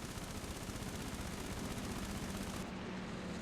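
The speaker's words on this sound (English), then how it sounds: "Start firing the MG42" An MG42 machine gun firing in the War Thunder game: a continuous rapid rattle of shots, loud and close, that runs without a break for the whole short stretch.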